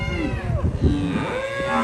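Young calf, about six or seven months old, lowing on a cattle farm, a single loud, close moo with wavering pitch lasting nearly two seconds.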